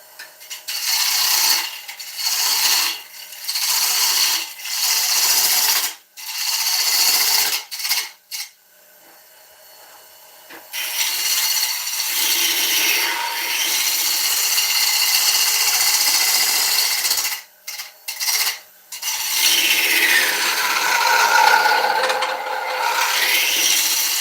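An oak fruit bowl spins on a wood lathe as a turning tool cuts it, giving loud, rough scraping and rasping in repeated bursts with short pauses as the lathe is stopped and restarted.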